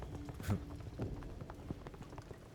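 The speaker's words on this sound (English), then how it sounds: "The sound of the fucking neon lights crackling in the rain." Neon lights crackle in the rain with faint, irregular pops and clicks scattered over a soft, steady hiss of rainfall.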